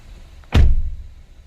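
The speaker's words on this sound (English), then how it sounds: "Let me close my door." A Honda car door shuts once with a single sharp, heavy thud close by, followed by a brief low rumble that fades in quiet surroundings.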